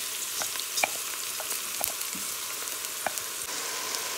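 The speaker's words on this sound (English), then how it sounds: "Now now that the onion has been frying up, we're gonna add our rice to this." Onion and rice fry in a pot for a split peas cook-up, a steady close sizzle broken by small scattered pops and crackles and the light scrape of stirring.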